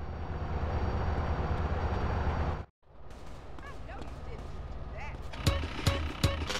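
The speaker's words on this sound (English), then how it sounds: "Follow that train." A heavy, steady rumble of a train passing in GTA San Andreas for a few seconds, then a sudden cut, followed by voices and a couple of sharp bangs.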